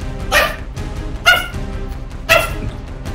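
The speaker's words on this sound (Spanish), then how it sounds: "Pero tú, ¿por qué estás ladrando tanto?" A dog barks three times at roughly one-second intervals, sharp, close and loud, with faint background noise between barks.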